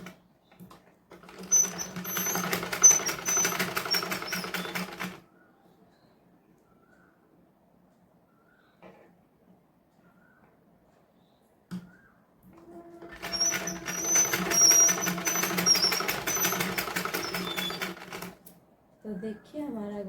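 Two bursts of a sewing machine stitching a blouse neck band, each a few seconds of fast, close mechanical whirring, separated by a quiet pause with faint handling sounds.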